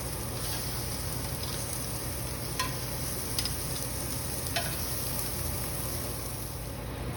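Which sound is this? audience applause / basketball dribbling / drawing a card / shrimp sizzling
shrimp sizzling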